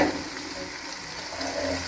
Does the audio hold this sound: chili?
yes